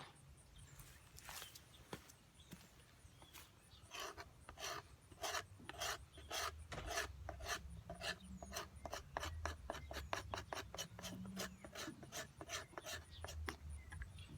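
Aged fatwood is scraped with a blade in quick, rhythmic rasping strokes, close and fairly quiet, speeding up into a steady run of short scrapes with a faint low rumble beneath.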